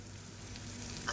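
Onions sautéing in a pan with green chili, garlic and pepper paste, a soft steady sizzle with a faint stirring scrape near the end, no talk.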